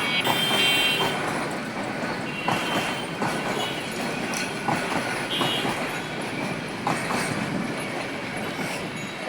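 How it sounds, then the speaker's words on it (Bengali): A Bangladesh passenger train runs steadily and loudly, its broadband rumble and rattling wheels continuing throughout with faint clatter and occasional squeals. "Train, Bangladesh train."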